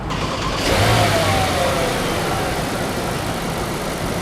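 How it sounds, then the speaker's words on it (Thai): A car engine starts up during a gearbox flushing job, cranking briefly, then catching and settling into a steady, loud idle close by, with no talk. "สตาร์ทเครื่องครับ"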